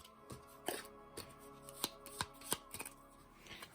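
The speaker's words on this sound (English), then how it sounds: "we will shuffle up our discard pile" Discard pile of cards shuffled during a board game: soft riffles and sharp snapping flicks in irregular bursts, close and quiet, with no talk.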